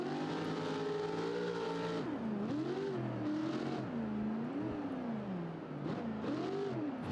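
Race car engine in the BeamNG Drive video game, held hard on the throttle during a simulated desert Baja race, with a loud sustained roar whose pitch dips and climbs through gear changes and lifts.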